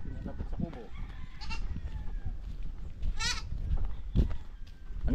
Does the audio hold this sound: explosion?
no